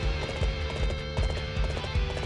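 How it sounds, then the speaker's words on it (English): Horse hooves clip-clop steadily at a trot in the Dynasty Warriors Xtreme Legends video game, a close repeating rhythm over game background sound with no talk. "I need a better horse. This horse sucks."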